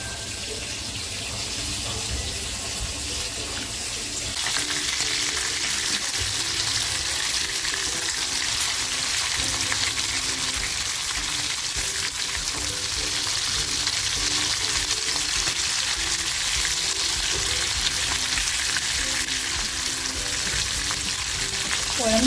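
Prawns frying in a pan for Chinese-style chilli garlic prawns, a steady loud hiss of sizzling oil that swells after a few seconds and holds on with faint stirring, no voices.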